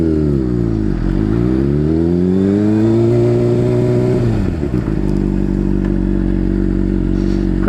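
A Honda CBR600RR sport motorcycle engine revs and climbs in pitch while riding during a motorcycle safety class, then drops as the rider brakes and settles to a steady idle, loud and close throughout.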